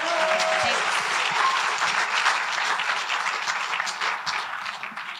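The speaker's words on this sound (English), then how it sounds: "give her a warm round of applause, guys" Warm, sustained audience applause for someone speaker at a church rally on adoption, a steady wash of many hands that tapers slightly at the end.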